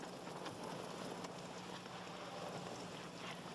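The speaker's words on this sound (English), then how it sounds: "I love the sound of rain. It's like tap dancing on my window." Steady rain patters across a broad hiss, as if falling against a window, continuous and fairly close with no voices.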